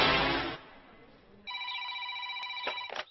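A telephone rings in a Telugu film scene: a brief burst of noise, a quiet gap, then a steady electronic ring with clear tones that holds for about two seconds at moderate loudness.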